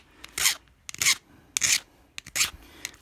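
A hand file rasps a burr off an original part on a Honda Cub Pro 110 (JA10), four short scraping strokes at a steady rhythm, close and alone.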